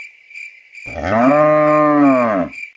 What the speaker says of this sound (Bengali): গরুটা তো ভালোই আছে